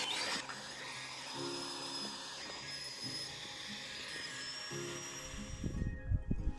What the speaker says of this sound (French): mini pompe électrique de chez Nightcore, toujours avec un embout de valve prévu à cet effet de chez Mekong